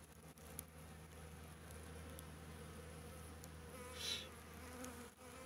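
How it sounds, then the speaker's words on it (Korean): Bees buzz steadily in a garlic vegetable garden after the straw insulation cover has been removed, a faint continuous drone with one louder pass about four seconds in. "벌이 지금 있는데,"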